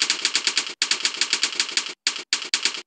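Rapid keystrokes on a keyboard during a timed typing test, a close, loud, steady clatter of clicks in fast bursts broken by a few short pauses, with no talking.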